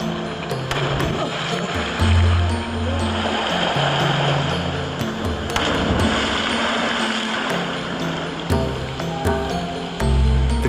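Rushing water of the Chijulang River flowing through Green Canyon, a loud, continuous broadband wash with surging swells and splashes, no voices.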